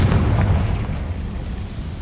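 A Confringo fire spell explodes in Hogwarts Legacy, a deep, rumbling blast with a heavy low-end boom at the start that lingers as a steady roar through the short moment, with no voices.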